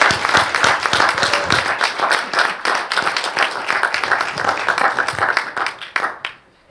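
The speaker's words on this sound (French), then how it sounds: "on va applaudir Valérie" An audience at a conference closing session applauds a colleague named Valérie with close, lively clapping of uneven density that tapers off and stops abruptly just before the end.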